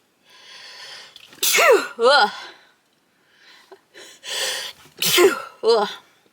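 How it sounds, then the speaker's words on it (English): Two sharp sneezes, each preceded by a quick gasping breath, with a pause between them; close and fairly loud. "Oh, I gotta sneeze."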